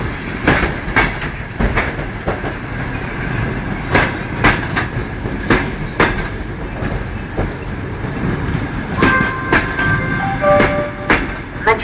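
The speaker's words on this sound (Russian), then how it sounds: "Скорый поезд номер 145, Челябинск, Санкт-Петербург. Прибывает к 4-й платформе 8-й путь." ChS2 electric locomotive hauling a passenger and mail-baggage train into a station, wheels clacking rhythmically over rail joints, loud and close, with brief squealing tones near the end as it slows.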